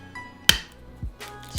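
An egg is cracked in a home kitchen while cooking a fried vegetarian mock chicken and beef dish, giving a single sharp, close crack followed by a couple of softer taps and knocks.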